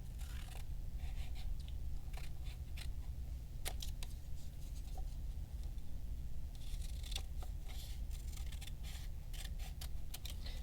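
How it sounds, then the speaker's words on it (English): Scissors snip through folded paper in a quiet room, a run of soft, close, irregular cuts that pause and resume, faint against a low background hum. "You can fold it and cut down the fold, or you can just cut right down the middle."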